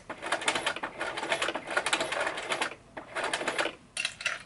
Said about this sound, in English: once I get to the middle, I'm just going to come down and stitch across these